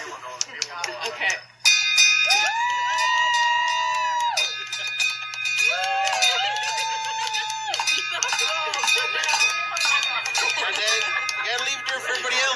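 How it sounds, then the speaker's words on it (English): A bell rung at a cancer center to mark the end of treatment, with sustained ringing tones layered and repeating over several seconds, clear and fairly loud, mixed with background voices and room noise. "That is the sound of my dad ringing the bell at the cancer center."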